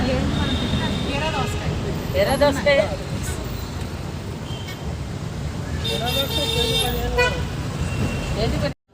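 Busy road traffic in Bangalore rumbles steadily throughout, with several car horns honking in short toots and a couple of longer blasts at mid-distance. Voices are heard talking over the traffic.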